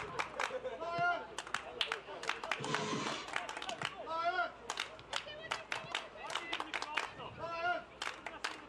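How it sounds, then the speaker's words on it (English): Fans in the bleachers clapping and cheering for the Dayton Dutch Lions at a W-League women's soccer match, scattered claps and crowd noise running under a commentator's steady talk. "Fans starting to clap, cheer on their Dutch Lions team."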